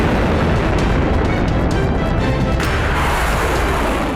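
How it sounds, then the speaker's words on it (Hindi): A huge blast in Beirut, a sustained, loud, dense rumbling roar with crackling debris that fills the whole clip and slowly eases toward the end, with no voices. "बेरूत में डर्टी बम से विस्फोट।"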